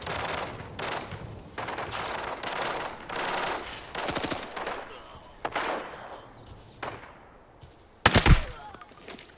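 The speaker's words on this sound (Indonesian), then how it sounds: "Aku pun berhasil menembaknya di kepala." G28 rifle fire in the video game Arena Breakout on a farm map, with repeated sharp shots and bursts at a middle distance, a loud close report near the end, and a person talking over the action.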